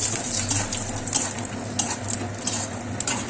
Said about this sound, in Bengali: এই যে বাদামটা একটু ভাজা ভাজা করে নেব।